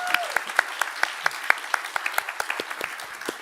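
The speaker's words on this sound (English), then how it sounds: "I thought you were going to clap, so we clap." A small group claps steadily at a graduation ceremony, with distinct individual claps in an even rhythm, fairly close and moderately loud.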